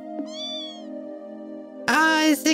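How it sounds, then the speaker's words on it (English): A kitten meows in the role-playing game Trails in the Sky SC: a short high mew, then a louder, longer drawn-out meow near the end, over a soft sustained game music drone. "The cute little kitty sound."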